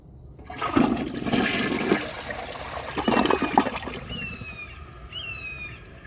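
A Project Source Pro toilet flushes during a 2022 flush-performance test: a loud rush of water swells and gurgles down, then eases into a steady refill trickle with a thin whistling hiss from the tank valve.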